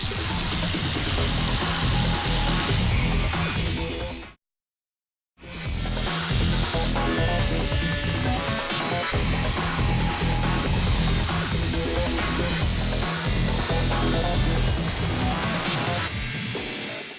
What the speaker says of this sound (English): After I get the straight cuts with a disc, I'll hit the corners with the air saw